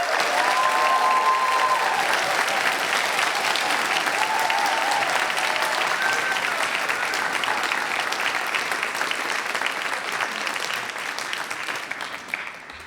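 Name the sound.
cheering and applause for graduates at a ceremony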